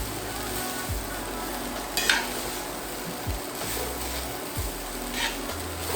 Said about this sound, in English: So our hubby is getting that nice and stirred up.